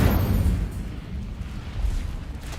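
Fire spell blasts in a Hogwarts Legacy battle, a continuous rumbling roar of flames and explosive bursts, heavy and loud in the low end throughout.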